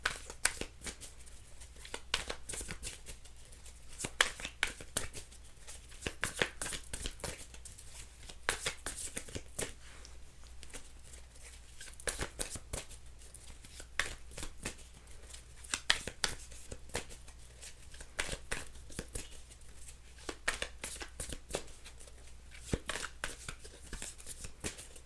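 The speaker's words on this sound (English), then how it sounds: "Let's keep shuffling." Tarot cards are shuffled over and over in quick, rapid riffles and flicks, close and steady for the whole stretch, with faint low background hum.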